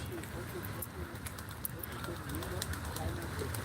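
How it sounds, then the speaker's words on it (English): Pigeons coo softly in low repeated warbles under steady outdoor background noise, with a voice speaking nearby over them. "Of course, you got your pigeons"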